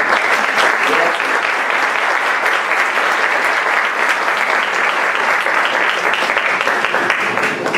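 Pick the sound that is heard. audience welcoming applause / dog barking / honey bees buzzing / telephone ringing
audience welcoming applause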